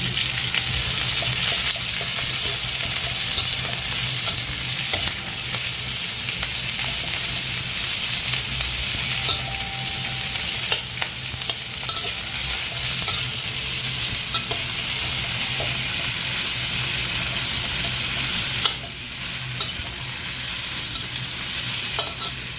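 Onions frying in a pan for a pork and vegetable dish, a loud, dense, continuous sizzle with occasional stirring scrapes, heard close with no talking.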